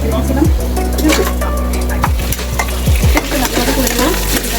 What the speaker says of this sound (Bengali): এখন আমি পেঁয়াজ ভাজা দিয়ে দিয়ে দিয়েছি